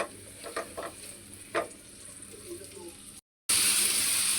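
Bitter gourd frying with green chilies in a pan gives a soft sizzle with a few sharp scraping clicks. A brief dropout is followed by a louder hiss.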